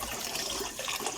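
Water splashes and runs steadily while twin boys are bathed, a continuous close wash of liquid sound with no talking.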